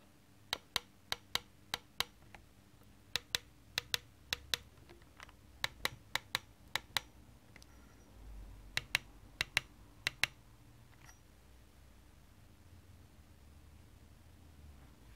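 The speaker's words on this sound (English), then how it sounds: "The resistance point is crisp and makes a well audible and loud clicking noise." Crisp, loud clicks from the four-way joystick on an Ascher-Racing F28-SC V2 wireless sim racing wheel, tapped in quick irregular bursts of two to four presses with short pauses, close and alone over faint background hiss.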